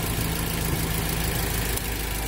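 Mazda MX-5 fitted with an iForce upgrade, engine held close at a steady, loud drone with a low hum throughout, the revs staying fairly constant rather than rising sharply.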